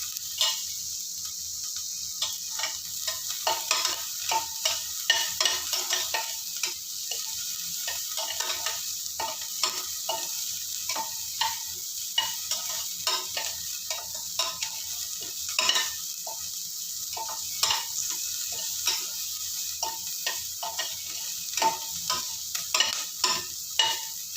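Salted onions sautéing in a pan for ghee rice, making a quiet continuous sizzle broken by many irregular tapping stirs of a spoon against the pan, close by, with no voices.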